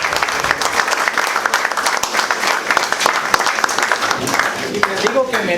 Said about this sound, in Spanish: Considero que merece un aplauso al maestro.